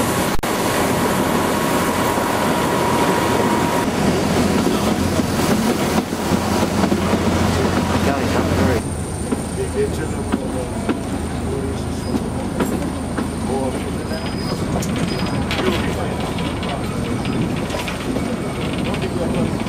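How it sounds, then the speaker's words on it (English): A toy train in the Indian Himalayas rumbles along near Solan with rattling wheels and a steady roar, then shifts to a quieter hum with a faint high whine; no clear speech. "we're about to get on another toy train"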